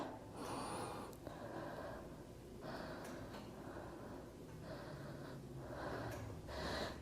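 Breathing during a Pilates stretch on a ladder barrel, a series of soft, airy breaths and exhales repeating at a slow, even pace, close and quiet.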